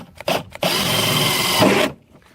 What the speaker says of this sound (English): start drilling the hole right here with my handy dandy Black & Decker 20-volt